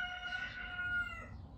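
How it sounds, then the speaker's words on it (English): A cockerel crows from down the road, one drawn-out cock-a-doodle-doo carried faintly over a quiet indoor background, with no talking. "obviously he's heard the cockerel down the road, so Howard's got to give it a bit of beans"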